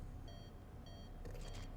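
Electronic beeping in a horror fangame, a few short high-pitched tone bursts repeating at intervals over a low steady hum, faint and without talk.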